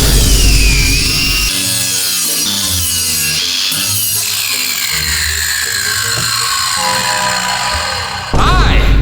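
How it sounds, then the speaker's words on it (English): A hook saw cuts steadily through material in a long, continuous, loud sawing rasp, with rhythmic strokes running almost the whole time before a brief clattering break at the end. "We got a hook saw."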